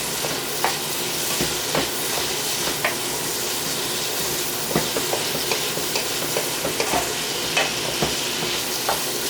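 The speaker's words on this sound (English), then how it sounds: "I'm going to add in the garlic and saute that for about a minute" Garlic sizzles in a hot pan on high heat for a chicken stir fry, a steady close frying hiss broken by light clicks and scrapes from stirring, with no voices.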